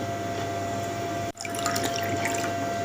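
Water splashes and trickles into a container after a brief pause, a close, steady pouring sound with small drips.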